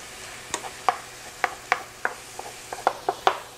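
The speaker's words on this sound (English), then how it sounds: "We're going to finish browning up the ground beef, making sure the peppers and the onions are nice and softened" Ground beef with peppers and onions browning in a pan, heard as a scattering of soft clicks and light taps over a faint steady sizzle.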